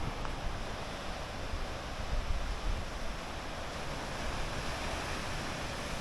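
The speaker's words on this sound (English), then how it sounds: "I could fall asleep to that ocean sound." Steady ocean surf rolls continuously along the Oregon coast, a broad wash of waves and wind noise with no voices, loud and unbroken throughout.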